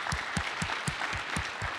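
Audience applause at a collegiate cyber defense competition awards ceremony, an even crowd clapping wash with a few closer sharp claps and thumps recurring at a quick regular beat.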